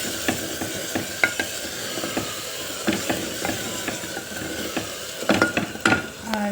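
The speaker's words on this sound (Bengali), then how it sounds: "এই মশলাটাকে ভালো করে অ্যাড করছি, মিক্স করে নিচ্ছি" A spoon stirs a spice mixture for chicken in a pan, giving a run of scraping, clinking strokes at an uneven pace with a faint sizzle underneath and a busier flurry near the end.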